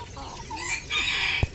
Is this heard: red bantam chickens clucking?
yes